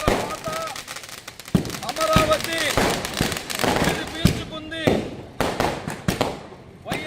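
Firecrackers set off by political alliance supporters at a village celebration in Agarampalli, a loud sequence of sharp bangs and crackling bursts in irregular rhythm, some close and some further off, over a continuous crowd din.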